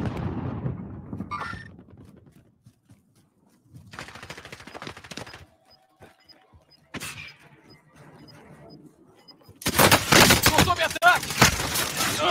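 Gunfire in Call of Duty Warzone: scattered bursts and single shots, then a loud sustained volley near the end, with talk early on.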